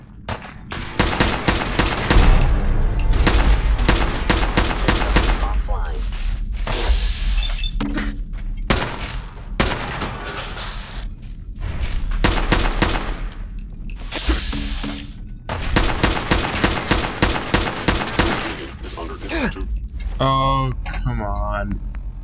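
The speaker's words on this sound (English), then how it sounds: "We'll use the assault rifle." Assault rifle fire in Fallout 4, repeated loud bursts of rapid shots across the clip with brief pauses between volleys, mixed with game effects and occasional talk.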